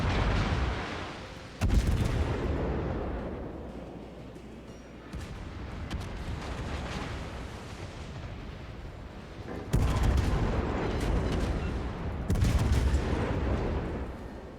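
Heavy naval gunfire booms repeatedly in a warship video game, loud salvos with long rumbling decays that overlap one another, and no voices heard.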